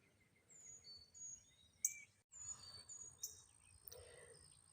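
Wild birds chirp around a seed feeder in a backyard garden in May, with a few faint, high calls and tweets spread over a quiet outdoor background.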